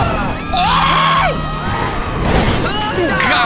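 Characters in GTA 5 scream and shout in high, wavering cries that rise and fall. A player talks loudly over the noise, and the whole scene is close and busy.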